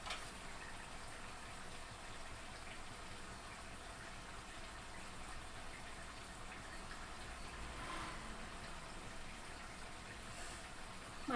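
Mutton curry with fresh coriander boils in a pot, a steady, low bubbling and gushing hiss that stays even throughout with no other sounds.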